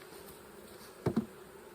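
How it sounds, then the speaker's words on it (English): A swarm of bees gives a low, steady buzzing hum throughout, with a couple of brief louder thumps near the middle and no voices. "So we can take these bees and move them away."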